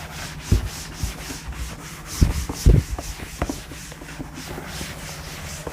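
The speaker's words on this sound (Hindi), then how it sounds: "इसको रब करता हूं मैं।" Eraser rubbing back and forth on paper to clear written chemistry working, a series of short scratchy strokes with brief bursts, close and fairly loud with no talking.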